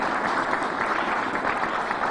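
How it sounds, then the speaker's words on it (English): Audience applause fills a groundbreaking press conference for a new Irondequoit community center, a steady, dense patter of many hands clapping at even loudness throughout. "please give Angela and Sally and Gracia a round of applause."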